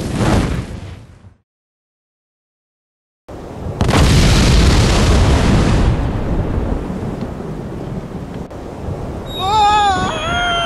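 A bomb goes off in Monkey Island 2: LeChuck's Revenge Special Edition, a loud, roaring blast after a brief silence, rumbling for a couple of seconds and then fading into a lingering wash of noise.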